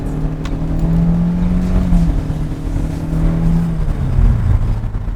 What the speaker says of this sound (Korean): 엔진음 한번 들어볼게.